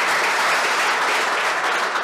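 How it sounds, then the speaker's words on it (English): Audience applause at a golf championship closing ceremony, a dense, sustained wash of many people clapping, loud and even throughout with no speech over it. "a big round of applause on our behalf to you for making that happen"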